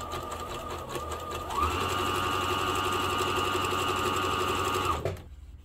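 A PFAFF Expression 2036 sewing machine stitching a wide zigzag runs as a close, steady rapid mechanical hum and whir for about three and a half seconds, then stops, with no voice during the sewing.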